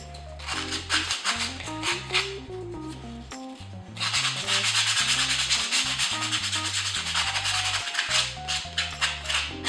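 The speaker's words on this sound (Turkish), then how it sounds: "zımparalıyorum" Repeated scratchy strokes of sandpaper rubbing against the wooden body of a handmade toy cart, close and rhythmic, with steady back-and-forth scraping that grows slightly louder midway; background music plays underneath.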